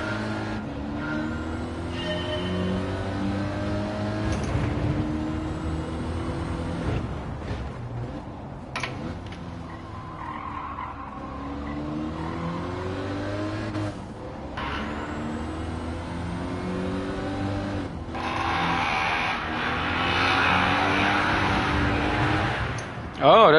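In the Gran Turismo 7 racing game, a race car engine drones and revs, climbing in pitch through the gears and dropping at each upshift, loud and continuous through the whole stretch.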